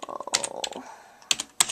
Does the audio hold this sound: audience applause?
no